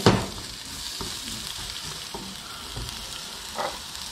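Garlic and dedo de moça chili sizzle steadily in hot oil in a pan for a fish and shrimp moqueca, with a few soft stirring scrapes over a constant close fry and no voices.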